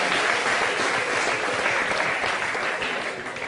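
An audience claps for the projects, dense sustained applause from a crowd that stays loud and steady throughout and thins slightly at the very end.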